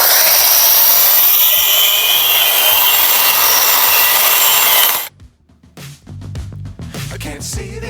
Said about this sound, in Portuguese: vocês acompanhem aí um pouco do lixamento aqui do cimento